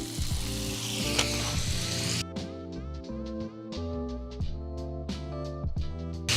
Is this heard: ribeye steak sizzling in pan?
yes